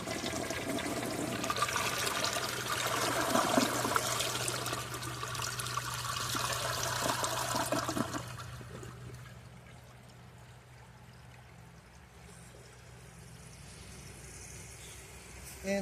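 A 2004 Kohler Kathryn toilet flushes a washcloth: a loud, rushing flush for about eight seconds, then the quieter hiss and trickle of the tank and bowl refilling.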